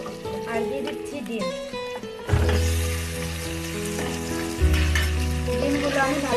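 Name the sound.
eggs frying in oil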